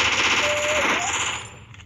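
A Vector submachine gun fires in the video game Free Fire as a rapid, continuous burst of automatic shots, loud and close, fading slightly at the end.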